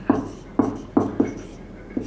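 Chalk or marker writing on a board, a few short scratchy strokes tapping out at irregular intervals, close and clear, with no talk over them.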